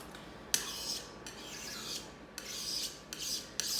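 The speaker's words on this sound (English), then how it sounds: "let me just scrape this off of my counter and back into my bowl" A utensil scrapes buttercream frosting off a kitchen counter and back into a bowl in several separate rasping strokes, close and moderately quiet, with short pauses between them.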